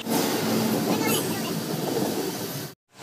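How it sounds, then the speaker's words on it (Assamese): A train starting to move rumbles and clatters at close range with a steady, rattling roar, then cuts off abruptly near the end. "ফাইনেলি ট্ৰেইন ষ্টাৰ্ট হৈ গ'ল আৰু এতিয়া যাব ধৰিলোঁ"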